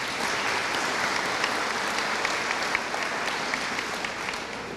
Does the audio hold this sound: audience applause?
yes